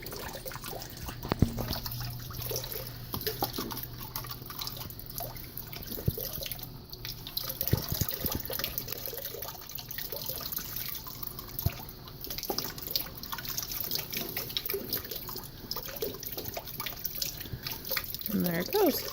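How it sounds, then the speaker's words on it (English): Water pours from a small pump into cups as part of a homemade water wheel, a thin continuous trickle and splash with scattered drips, fairly faint and close, while someone talks over it. "the water comes out of the pump and will go into your cups without hitting the cups like that"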